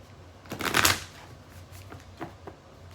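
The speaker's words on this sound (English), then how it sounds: "let's get another shuffle here." A deck of tarot cards is riffled and shuffled in one quick burst, followed by a few softer card taps and slides, close up with no talking.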